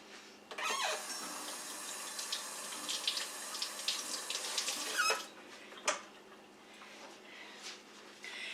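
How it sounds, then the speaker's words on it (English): Kitchen tap water runs steadily into a sink for about five seconds as hands are washed, then stops, followed by a few faint thumps and clatters nearby. "I'm going to wash my hands"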